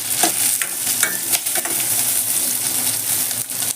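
Chopped green chillies sizzle and fry steadily in a hot pan, a continuous crackling hiss with a few stirring scrapes, close and fairly loud with no talking.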